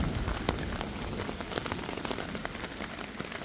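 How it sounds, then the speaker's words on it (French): Rain falling in a forest, a steady dense patter of drops striking nearby surfaces with scattered sharper ticks, continuous and close. "J'attends que la pluie s'arrête"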